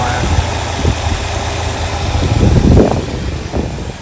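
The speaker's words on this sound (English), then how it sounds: "I really like that quiet engine." A 1967 Lincoln V8 idles quietly and steadily nearby, a low smooth rumble with slight knocking and a mild swell in level partway through, with no talk over it.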